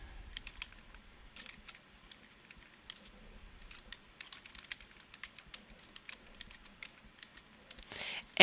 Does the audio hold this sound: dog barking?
no